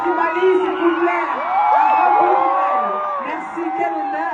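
A large concert crowd in Bamako, Mali cheers, whoops and yells for a singer, a dense, sustained roar of many voices with rising shouts that swells and then eases slightly.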